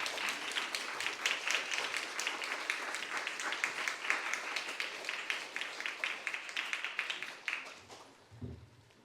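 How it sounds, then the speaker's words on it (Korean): A church congregation at a Wednesday worship service claps steadily for several seconds to welcome a missionary from Mongolia, the dense applause fading near the end into a few low thumps. "오늘 최대니 선교사님 나오실 때 박수로 환영해 주시기 바랍니다"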